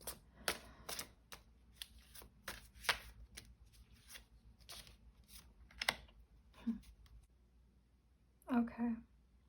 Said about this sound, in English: I'm just going to pull a few more cards here.